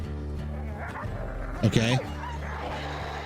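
A dog gives a brief burst of barks and yips, fairly close and loud, over steady background music, with a person talking around it.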